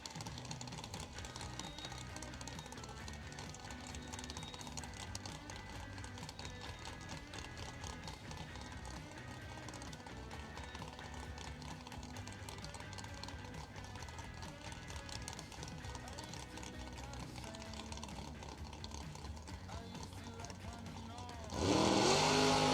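A blower-equipped Camaro drag car idling and revving on a time run at a drag strip, a dense steady engine roar heard from a distance, rising sharply louder near the end.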